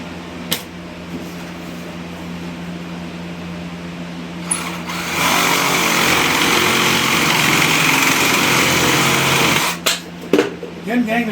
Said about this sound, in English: If you don't have a reciprocating saw like that, you can use a hacksaw.